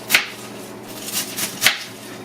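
A knife chops cabbage and carrots on a cutting board for homemade soup, with three sharp, separate thuds spaced irregularly over a couple of seconds, close and clear against a quiet kitchen background.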